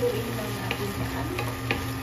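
Chicken and bitter melon simmering in a pan with soy sauce and sugar, a low continuous bubbling sizzle with a few light clicks of a utensil against the pan.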